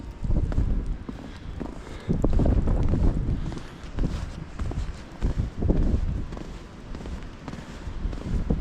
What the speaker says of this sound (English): Once more, I apologize for the wind noise.